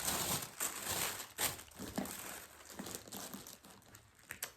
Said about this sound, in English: I'm going to pause this while I take everything out so it's not rattly and crinkly